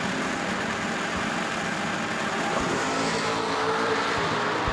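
A Superstock automatic 1994 Camaro sits at a drag strip starting line, its engine holding a steady, rumbling drone alongside other race car engines, with no talk over it.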